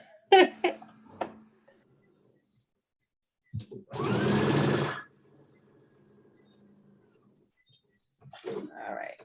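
A sewing machine runs in one short burst of about a second while stitching flimsy, wiry bralette fabric, set between quiet pauses and brief handling and voice sounds.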